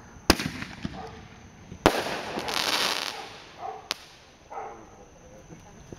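Fourth of July firecrackers and fireworks pop in sharp, widely spaced cracks with crackling bursts between them, and a dog barks faintly in the background.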